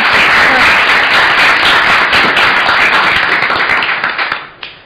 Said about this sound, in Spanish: Aplausos por favor para...